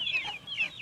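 Free-range village chickens kept in a small home flock give a short burst of nearby clucking, a few quick, raspy calls in under a second.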